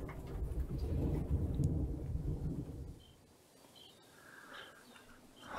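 A thunderstorm: a low, loud rumble of thunder rolls for about three seconds over falling rain, then fades to a softer wash of rain with faint bird chirps in the distance, no talk.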